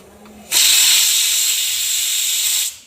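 A loud, steady hiss of steam bursting from a pressure cooker valve, starting abruptly and holding for about two seconds before cutting off.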